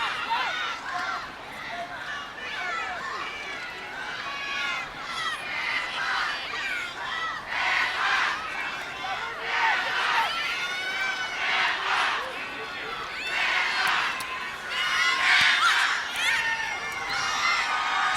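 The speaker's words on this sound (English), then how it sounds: "Still a great crowd here." A large stadium crowd at a college women's soccer semifinal, Alabama against UCLA, roars and cheers in swelling waves that persist throughout, with a commentator talking over the noise.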